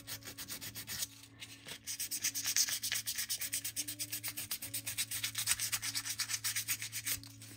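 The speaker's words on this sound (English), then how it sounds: "what I'm doing is just sanding a little bit more vigorously around the piece" Hand-sanding a small metal jewelry piece for a cicada necklace, steady rapid back-and-forth rubbing strokes in a fast even rhythm, close and clear, with a low hum underneath.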